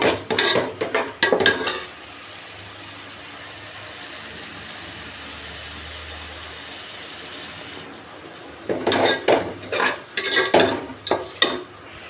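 Chicken kulambu with mint leaves stirred in a pot, loud scraping and clattering strokes at the start and again at the end, with a quiet stretch of low simmering in between.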